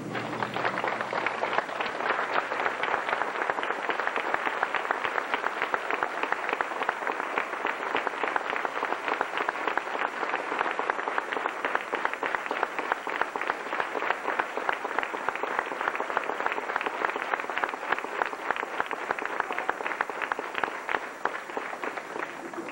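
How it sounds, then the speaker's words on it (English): An audience of grade 4 students, staff and parents gives a sustained, dense round of applause for the 5th grade students at their graduation ceremony, holding steady and loud from start to finish with no talking. "I would like all of the grade 4 students, the staff, and the parents to stand with me and applaud the efforts of all of our 5th grade students"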